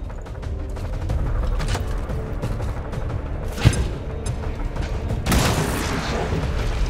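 A grenade goes off amid a firefight in XCOM 2: Long War 2, a sharp loud blast standing out over steady background gunfire and rumble, followed later by another broad burst.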